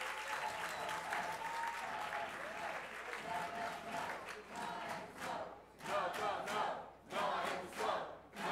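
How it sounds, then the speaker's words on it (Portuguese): An audience at a Brazilian parliamentary inquiry hearing claps in a sustained round of applause. The clapping comes in uneven waves and swells, with scattered shouts and crowd voices mixed in. "Salva de palmas."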